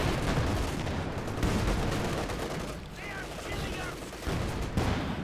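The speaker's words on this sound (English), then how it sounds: "More infantry gunfire." Bursts of rapid infantry gunfire in the video game Company of Heroes 2 crackle continuously at close range, dense and loud, with brief lulls before the shooting picks up again.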